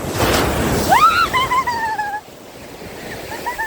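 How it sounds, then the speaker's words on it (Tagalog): Surf crashes and washes up close by at Christies Beach, South Australia, a big rushing wave that fades into lighter sloshing water, with a high whistling cry over the top. "Ayan, yung malaki alon."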